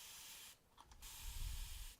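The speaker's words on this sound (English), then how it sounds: "I'm going to spray a little bit of water" Spray bottle misting water onto leather during belt sheath tooling, heard as a soft hiss that cuts off briefly, then quick close spritzes and a faint tap or click, with no talk.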